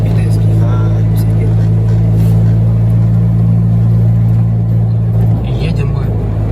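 A Suzuki Jimny with a 1.8-litre engine and automatic gearbox held in lockup drives along with a loud, steady low engine drone and road rumble inside the cabin, while someone talks over it.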